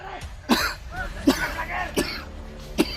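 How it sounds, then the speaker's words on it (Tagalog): A person coughs four times in a row, each cough sharp and fairly close, spaced roughly evenly in a noisy room. "Inuubo na ako dito, tol."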